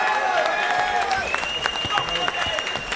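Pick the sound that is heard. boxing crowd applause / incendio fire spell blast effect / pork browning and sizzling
boxing crowd applause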